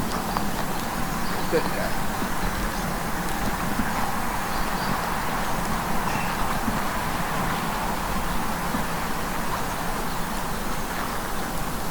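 A young mare's hooves clip-clop in a steady walking rhythm under a rider, moderately close and continuous, with a rider's voice briefly speaking over the footfalls.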